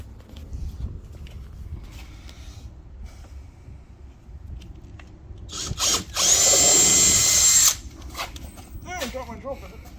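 A power drill whirs in a short steady burst, with a few clicks and faint handling noise around it, while a kayak anchor rig is set up in a garage.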